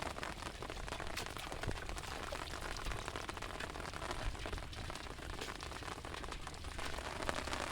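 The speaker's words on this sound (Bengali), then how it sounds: "এই যে বৃষ্টি, বৃষ্টিতে না যায় ছাতি ধরা" Rain falls by a river, a dense, steady patter of drops on surfaces, faint and even throughout with no voices.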